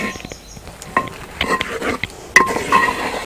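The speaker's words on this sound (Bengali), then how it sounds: "মশলার সাথে পালং শাক খুব সুন্দরভাবে মিক্সড করে নিলাম।" Spinach being stirred with spices in a cooking pot: scattered metallic clinks and scrapes of a spoon against the pot at an irregular pace, close and fairly quiet, with no talking.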